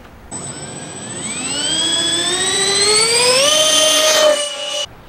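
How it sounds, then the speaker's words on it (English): Twin 64 mm ducted fan jets on a radio-controlled A-10 Warthog model spool up into a loud, steady rising whine that climbs in pitch, holds briefly near full power, then cuts off abruptly, heard close with no talking. "It's a twin 64 millimeter ducted fan jet."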